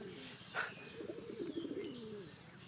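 Pigeons of several breeds at a pigeon farm, cooing softly at close range in a low, rolling rhythm, with a brief chirp and faint background rustle.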